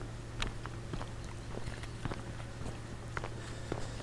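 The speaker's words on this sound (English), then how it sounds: "I know it's going to pick up the sound of my footsteps." Footsteps of a person walking outdoors, a steady series of soft crunching steps at close range over a constant low hum, with no talking.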